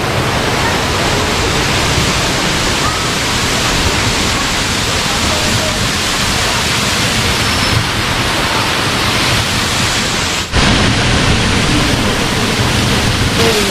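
Kailash Gufa waterfall in Chhattisgarh roaring as a loud, continuous broadband rush of falling water heard from close by, with one brief dip in level toward the end.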